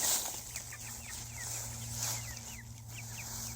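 Quiet, scattered clucking of chickens around a compost system over a low steady hum, with soft chirpy notes coming and going.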